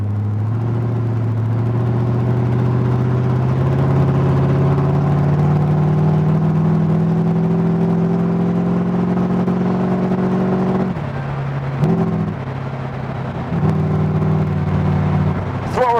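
A Rover V8 with a carburettor roars loudly while driving, holding a steady revving drone that dips briefly near the end and then picks back up, with no voices.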